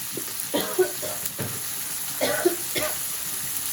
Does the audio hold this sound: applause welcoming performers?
no